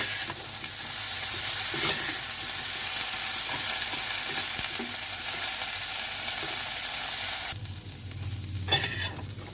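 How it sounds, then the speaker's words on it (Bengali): Broccoli sizzles steadily in hot oil with occasional stirring scrapes, and the frying quiets suddenly near the end. "এবার ব্রকলিগুলোকে ভেজে নেব"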